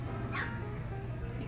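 Small puppy whimpering and yipping, a brief high whine near the start over a low steady background hum, close and fairly soft.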